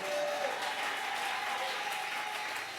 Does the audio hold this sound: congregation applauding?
yes